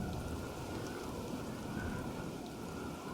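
Rain pours steadily across a battlefield in the video game Shogun Total War, a dense, even hiss of falling water with no breaks and no voices.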